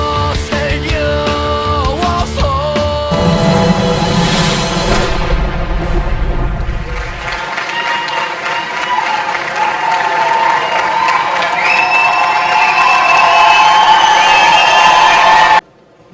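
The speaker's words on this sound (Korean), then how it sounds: "박수!" A crowd applauds and cheers at the opening ceremony of the 2012 Cheonan Heungtaryeong dance festival in Korea, loud sustained clapping and whoops running the whole time alongside music and a voice over the speakers.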